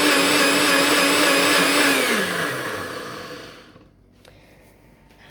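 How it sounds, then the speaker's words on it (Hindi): Loud whirring of a kitchen blender making a mint honey lemon drink slows and winds down, leaving a quiet room with a couple of small clicks at the end. "काफ़ी शोर है इस ब्लेंडर का"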